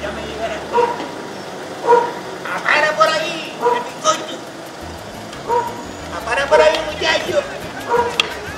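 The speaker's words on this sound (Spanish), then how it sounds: "Cristiano, esto es un perro maldito" A dog barks and yips in repeated short bursts close by, mixed in with people talking and laughing.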